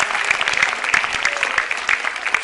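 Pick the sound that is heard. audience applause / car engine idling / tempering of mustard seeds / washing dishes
audience applause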